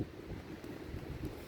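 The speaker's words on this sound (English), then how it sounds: "It's getting really windy now." Gusty wind buffeting a microphone outdoors on a rainy day in the UK countryside during a metal detecting dig, a low rumbling roar with uneven surges.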